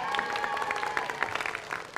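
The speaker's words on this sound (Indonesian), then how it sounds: "tepuk tangan dulu." Studio audience applauding at an open mic stand-up comedy show for TVRI Maluku, a steady wash of many hands clapping at moderate distance, continuous for about two seconds with no talk over it.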